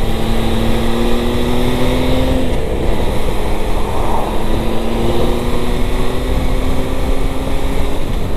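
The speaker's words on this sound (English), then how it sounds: "That triple engine sounds fantastic, even with the stock can." Triumph Tiger Sport 1050 motorcycle with a triple engine and stock exhaust, heard while riding at speed: a steady, loud engine drone with faint harmonic whine, blended with constant wind noise throughout.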